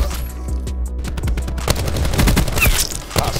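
Rapid automatic gunfire from the VAPR-XKG rifle in Black Ops 4, with dense close bursts of shots that build into sustained loud firing over game ambience.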